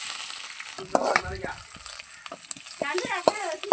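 Vadagam, sun-dried fritters, crackling and sizzling as they fry in hot oil, with steady bubbling and sharp pops, the occasional scrape of a stirring spoon, and close, continuous sizzle throughout.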